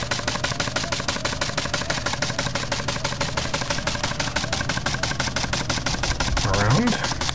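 A small Jensen 85 model steam engine fitted with an exhaust stack chuffs in a fast, even rhythm throughout, close and steady, with a brief rising squeak near the end.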